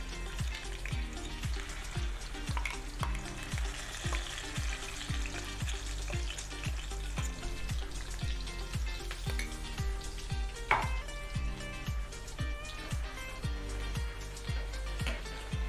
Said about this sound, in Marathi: तेलामध्ये चांगलं परतून घ्यायचा आहे हा मसाला।